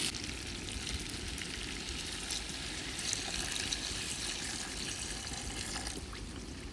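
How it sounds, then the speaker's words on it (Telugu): Water poured into a pan of spiced chicken pulusu, producing a loud, dense, continuous sizzle and bubbling hiss close by, steady from start to finish. "వాటర్ పోసేద్దాం."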